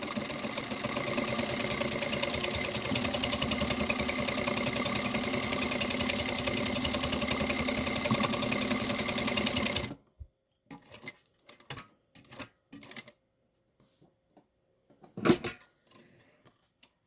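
An industrial sewing machine with a buttonhole attachment runs loud and steady for about ten seconds while stitching a buttonhole, then stops abruptly, leaving sparse clicks and small handling noises.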